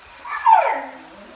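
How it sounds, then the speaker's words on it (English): A dog at a cabin gives a single close, high, drawn-out whimpering whine that rises to a yip and then trails off, with no talk. "Our dog is being annoying."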